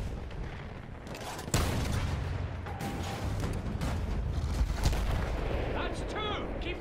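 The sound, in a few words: field gun cannon artillery fire in Battlefield 1 video game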